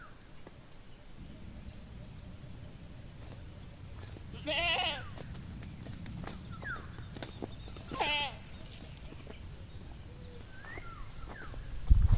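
Two short goat bleats stand out over a steady buzz of insects and crickets, with faint rustling on an open, heat-parched pasture with almost no grass left.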